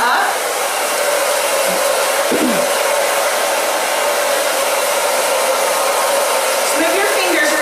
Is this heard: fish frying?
no